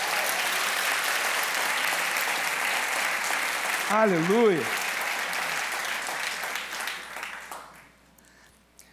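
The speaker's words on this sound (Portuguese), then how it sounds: "Você pode aplaudir ao Senhor bem forte." A church congregation applauds loudly and steadily during a worship service, sustained broadband clapping under a voice that briefly rings out, the applause fading away near the end.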